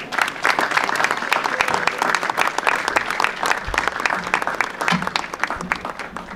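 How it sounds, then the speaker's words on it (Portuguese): Crowd applause at a village festival opening parade, dense sustained clapping from many people close by, steady throughout with a few faint voices underneath. "a quem também peço uma grande salva de palmas"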